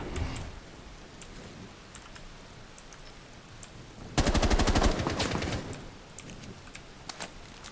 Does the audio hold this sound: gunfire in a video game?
yes